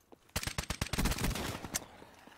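Automatic weapon fire in Call of Duty Black Ops 3 multiplayer, a fast burst of sharp suppressed shots in quick succession, then a dense rattling cluster trailing off, loud and close with no talking.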